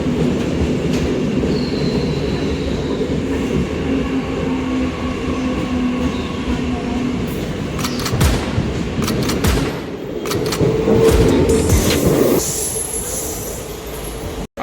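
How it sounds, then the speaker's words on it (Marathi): Karjat local train at a suburban station on the Mumbai line, a sustained rumble of rolling carriages with rattling and clanks, rising to a louder burst of squealing wheels and screech near the end. "स्टेशनवरती पोचलेलो आहोत आता आणि ट्रेन पण आलेली आहे."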